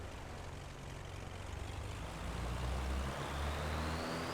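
Simulated BlackSquare Baron G-58 twin-engine aircraft running in Microsoft Flight Simulator, a steady low propeller-engine drone that grows slightly louder and deeper partway through, with a thin rising whine above it and no talk.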